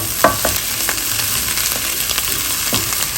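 Boneless chicken hits sautéed onions in a hot pan, giving a dense continuous sizzle with occasional clicks of a stirring utensil, close and fairly loud.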